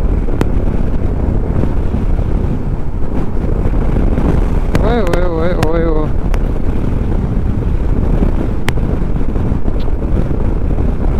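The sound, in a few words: wind buffeting moving motorbike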